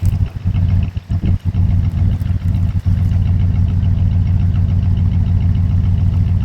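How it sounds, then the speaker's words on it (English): A 1985 Chevrolet Monte Carlo V8 idles steadily up close, a loud, even low rumble with a slight rhythmic lope. The engine is running a little smoky on the left bank. "She's just sitting there idling."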